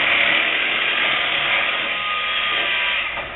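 Electric mixer running on low speed through pumpkin pie batter with added egg and egg whites, a steady, close whirring hum that eases off slightly toward the end.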